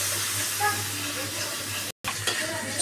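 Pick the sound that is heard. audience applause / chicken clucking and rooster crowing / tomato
tomato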